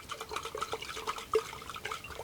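Water sloshing and splashing inside a glass beaker holding a couple hundred milliliters, shaken by hand in a steady, close, moderately loud churn with small drips and one sharper splash.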